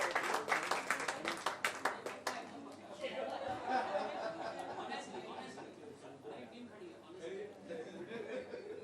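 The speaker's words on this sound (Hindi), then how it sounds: "एक बार जोरदार तालियां।" Audience members at a song launch event clap in a burst of sharp, fairly close claps that fade after a couple of seconds into murmured chatter and light laughter.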